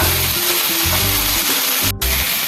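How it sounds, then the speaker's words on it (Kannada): Cluster beans frying in oil on a hot tawa give off a steady, close broadband sizzle that runs unbroken, apart from a brief dropout near the end. "ನೋಡಿ ಈ ಥರ ಎಣ್ಣೆಯಲ್ಲಿ ಫ್ರೈ ಮಾಡ್ಕೊಳ್ಳೋಣ"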